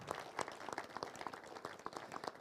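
An audience at the inauguration of the Brignoles fair claps for Didier Brémond, a sparse, uneven patter of individual hand claps, fairly faint and distant, with separate claps distinct.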